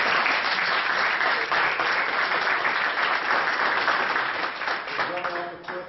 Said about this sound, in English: I'd like to everybody give her a round of applause for this